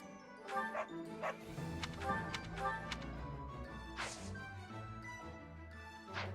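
A dog in Fire Emblem: Three Houses yaps in quick bursts over steady game music, a few close barks clustered near the start and again midway.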